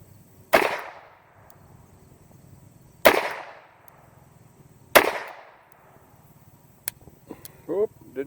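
A .22 revolver with a 2-inch barrel fired double action: three sharp, loud reports spaced a couple of seconds apart, each with a ringing decay, followed by faint clicks and small handling noises.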